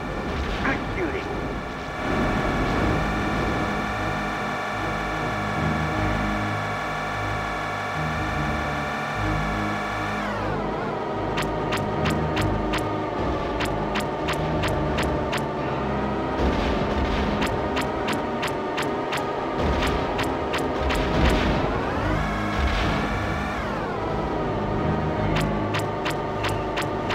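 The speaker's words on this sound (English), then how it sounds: "Vehicles have begun moving." Vehicle engines hum and rev steadily throughout a sci-fi combat video game mission, with a sustained mid-pitched drone, rising and falling in pitch, and rapid clicking bursts layered over it.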